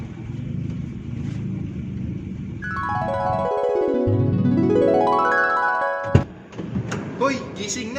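A Maxus G10 van is driven, its engine a steady rumble rising and falling as it shifts through gears, with a clunk near the end and a musical tone sweeping over it.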